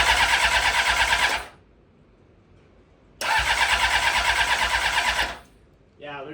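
Honda CBR 600RR motorcycle engine cranking without firing for lack of fuel after being repaired: two long bursts of loud, rapid buzzy starter whirring, separated by a quiet pause, with a voice beginning at the end.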